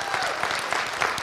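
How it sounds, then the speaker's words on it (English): A crowd at a high school signing day ceremony claps for athletes in a brief, steady burst of applause, fairly close and lively. "give all these athletes a big round of applause?"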